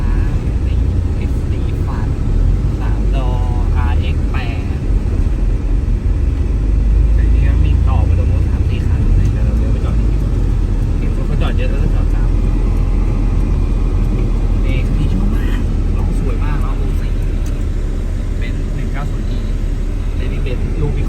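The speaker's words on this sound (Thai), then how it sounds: "รถฝันจะมาแล้ว" A sports car rolls in to a morning Cars and Coffee meet, its deep engine rumble building and holding close over the outdoor crowd murmur for about twenty seconds.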